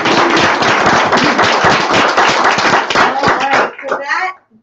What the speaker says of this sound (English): let's all give a big round of applause for Bevan